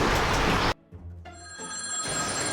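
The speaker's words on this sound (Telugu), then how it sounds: "ఫోన్ వచ్చిందండి, చూస్తాను." A telephone rings with a bright, sustained electronic tone after a brief burst of loud noise and a short pause, growing steadily louder toward the end.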